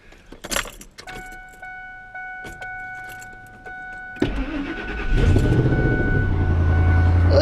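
Keys jangle before a truck's engine cranks and catches, then settles into a steady, loud idle as it warms up on a cold day.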